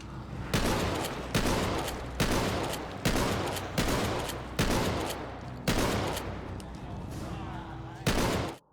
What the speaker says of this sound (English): I didn't even have to use my shotguns yet,